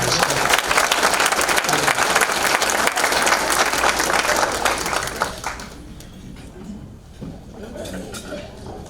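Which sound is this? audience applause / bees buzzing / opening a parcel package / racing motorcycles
audience applause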